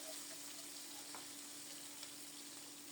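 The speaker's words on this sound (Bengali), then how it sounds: "আরও কয়েকটা মাছ আছে, আগে এগুলি ভেজে উঠিয়ে নিই।" Fish pieces coated in salt, turmeric and a little rice flour fry in hot oil, giving a steady, fairly quiet sizzle that holds evenly throughout with no talking.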